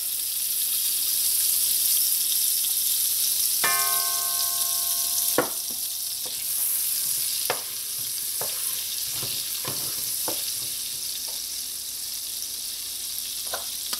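Golden Ray margarine melting with a little vegetable oil in a warm pot gives a steady, close sizzle, with a ringing metallic clink near the start and several sharp knocks of a utensil against the pot scattered through the rest.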